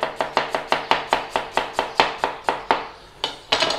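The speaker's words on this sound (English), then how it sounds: "Just slice up your potatoes." A knife slicing potatoes for a Lancashire hot pot, a quick, even run of about fifteen crisp chops against a board, close and clear, with a brief pause before the final cuts.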